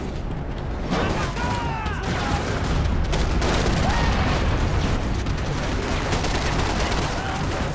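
Dense, continuous gunfire from the video game Max Payne 3, rapid overlapping shots and bursts that fill the whole stretch loudly, with a voice faintly mixed in beneath.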